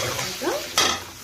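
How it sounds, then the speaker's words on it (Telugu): Green chillies, ginger pieces, onions and curry leaves fry in a pan, with a brief stir-scrape and soft sizzling; no talking. "తర్వాత పచ్చిమిర్చి, అల్లం ముక్కలు, ఆనియన్స్, కరివేపాకు బాగా వేపాలి."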